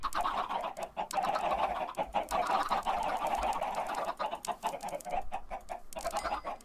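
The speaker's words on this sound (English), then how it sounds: "Wow, that's a lot of chickens." Many Minecraft chickens cluck and squawk together in a busy, overlapping flock, close and fairly loud, with short clicking sounds scattered throughout.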